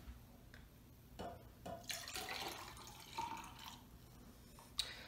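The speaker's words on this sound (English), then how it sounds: "by pouring some of this excess saturated 2X solution into its own cup" Saturated 2X buffer solution is poured from a container into a cup, a soft splashing trickle that rises for a couple of seconds, quiet and close, followed by faint drips and light knocks.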